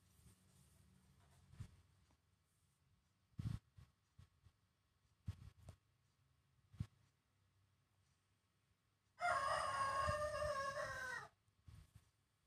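A pet rooster crows once, loud and close, a drawn-out harmonic call lasting about two seconds near the end, after a quiet stretch of faint thumps and small handling noises in a room.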